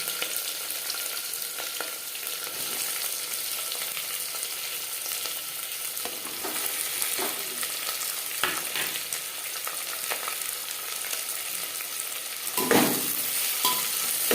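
Coarsely chopped onions fry in a few spoonfuls of hot mustard oil, giving a steady, dense sizzle that stays even throughout, close up with a few faint scrapes and no voices.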